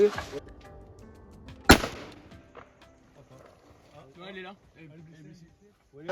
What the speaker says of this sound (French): première palombe tirée au tungstène en 24 grammes